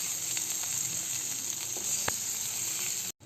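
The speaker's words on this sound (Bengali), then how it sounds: "তেল গরম হয়ে গেলে প্রথমে আমি এর উপরে মাছগুলোকে সাজিয়ে দেবো" Small tengra fish sizzling as they fry in hot mustard oil in a wok, a loud steady crackling hiss close up, briefly cut off near the end.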